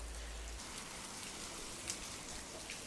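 Light drizzle in Ooty patters softly and steadily on surfaces, a faint, even hiss of fine rain throughout with no voices.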